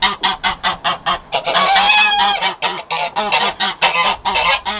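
Geese on a farm honk loudly and repeatedly, a gander among them, a close rapid chorus of raucous calls with no pause and no talk.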